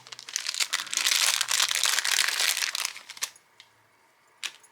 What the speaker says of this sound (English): I'm sorry for the crinkle.